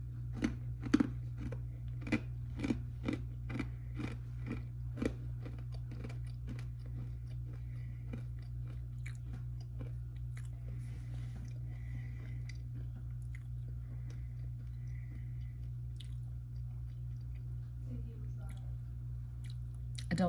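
Someone bites into and chews cinnamon Thin Slim protein food up close, with a steady run of crunchy bites early on that thins into quieter chewing over a low hum.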